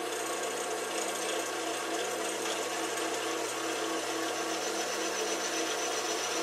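A power drill bores a hole through the top of a metal tube, a steady whirring grind with a rasping edge, close and continuous at moderate level, no speech.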